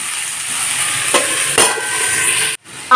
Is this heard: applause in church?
no